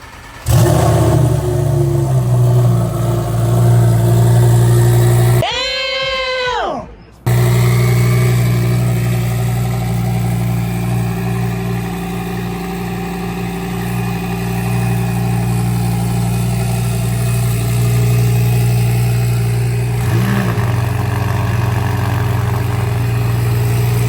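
Two supercars, a 900-horsepower McLaren and a twin-turbo Lamborghini, idle with a loud, steady low rumble throughout, broken once by a brief rising engine rev and a short gap.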